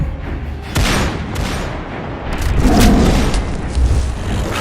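Loud, rapid bursts of gunfire with booming blasts, dense and continuous, rolling on close by without pause.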